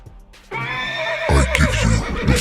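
Horses whinnying loudly up close, followed by a rhythmic run of hoofbeats clip-clopping as several horses move together.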